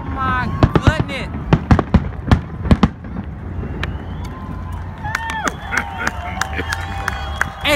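Fourth of July fireworks crackle and pop in rapid bursts like machine-gun fire, loud and close, with people talking and exclaiming over the barrage.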